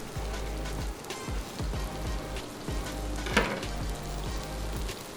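Chips bubble and sizzle in hot frying oil, a steady, dense crackle with small pops scattered across it. No voices are heard over the frying.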